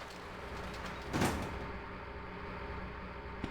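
A low voltage door sliding open in Resident Evil 3: Nemesis, one brief swishing burst that rises and fades over a steady background hum, with no voices.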